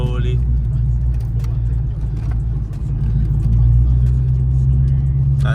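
A 2004 Mustang GT with a manual gearbox idles and rumbles steadily at a car meet as the clutch is let out, the engine note loud and close with a slight rise in revs.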